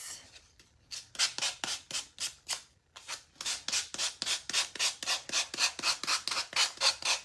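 A sanding tool rubs around the edges of a wooden craft kit in quick, regular back-and-forth strokes, a steady scratchy rhythm that pauses briefly before resuming, close and alone.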